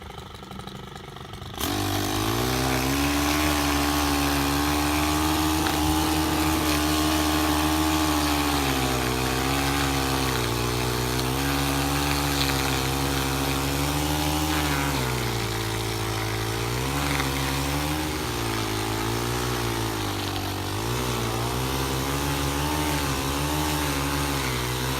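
A Stihl FB 131 edger engine starts up and runs steadily nearby, a loud continuous drone that rises and falls slightly in pitch over its length.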